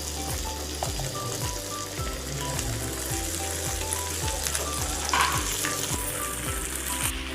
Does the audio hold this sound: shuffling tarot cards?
no